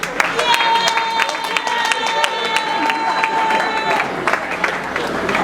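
Wedding guests at a religious marriage ceremony applauding the newlyweds, a crowd of clapping and cheering with a sustained tone and voices mixed in.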